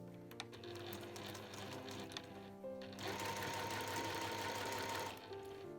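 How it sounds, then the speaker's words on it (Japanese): A professional-grade sewing machine stitches a lined shoulder bag with a caramel-colored bottom, a steady close mechanical whir with rapid needle chatter that briefly intensifies as it runs faster. "1センチ先に針を下ろして返し縫いから縫い始めていきます。"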